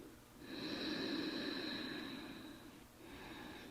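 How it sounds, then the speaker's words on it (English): Slow, deep breathing while holding a pigeon pose in a yin yoga class, a long airy exhale through the nose with a faint whistling edge, a short pause, then another breath beginning, close and soft. "Breathing."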